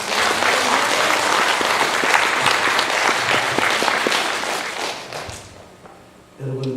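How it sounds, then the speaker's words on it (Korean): Church congregation at a Korean service gives sustained applause, a thick crowd clapping that holds strong and then fades out near the end, after which a voice begins speaking. "하나님께 영광을 돌리는 박수를 우리"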